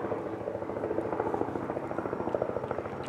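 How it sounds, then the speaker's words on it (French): A helicopter passing overhead outdoors, its rotor thumping in a fast steady pulse over a loud droning roar that holds throughout, close and dominant. "Quel hélicoptère de merde, là vous l'entendez forcément."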